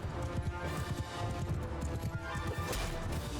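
Cavalry horses gallop in a Mount & Blade II: Bannerlord battle, a dense, continuous drumming of many hooves with faint battle clatter behind, no talking.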